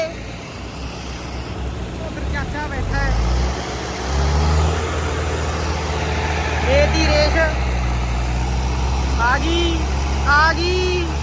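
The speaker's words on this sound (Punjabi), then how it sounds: "ਟਰੈਕਟਰਾਂ ਦਾ ਜ਼ੋਰ ਲੱਗਿਆ ਪਿਆ ਤੇ ਨਿਕਲ ਆਈ ਭਈ ਨਿਕਲ ਆਈ" Tractors strain to pull a stuck combine harvester free, their heavy engines roaring and rumbling low and continuously, with people shouting and talking throughout.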